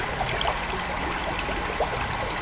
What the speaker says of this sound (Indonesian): Dengar suara air.